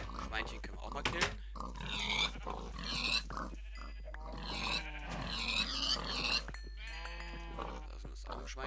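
Pig grunts from the video game Minecraft, short snorting calls repeating in bursts close by, mixed in with ongoing speech throughout.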